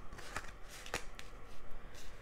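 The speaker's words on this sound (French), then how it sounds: "Un tas de cartes en plus. On va les retirer." Playing cards drawn and handled during a card reading: soft papery rustling with a few brief sharp snaps and flicks, close and quiet, with no voices.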